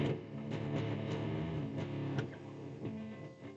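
Electric guitar playing power chords with slides from the second measure of a song, a quiet, slightly distorted riff of repeated chord stabs heard alone.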